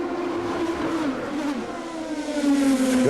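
Formula 3000 race cars with Lola chassis and V8 Zytec engines of about 460 horsepower race up the hill at Monaco, their engines a loud sustained drone with rising revs and a swelling pass toward the end.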